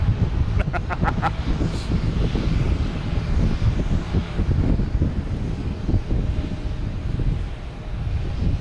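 Lufthansa airliner turning at Logan Airport, its jet engines giving a loud, steady low roar mixed with wind buffeting the microphone, with a few brief clicks early on and no clear voices.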